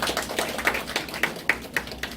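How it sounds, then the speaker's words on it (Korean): Scattered, fairly sparse hand claps at a temple program's graduation ceremony, individual sharp claps standing out at an uneven rhythm from a modest group, moderately close. "축하의 박수 부탁드립니다"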